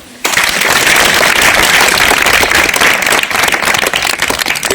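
Applause for a schoolboy at a primary school bursts in suddenly and holds as a dense, loud, continuous wash of many hands clapping together until the end.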